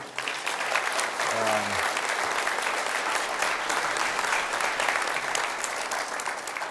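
Audience applause at a NASA talk, honouring the ATD-2 team interns; sustained, even clapping from a sizeable crowd with a brief low voice near the start.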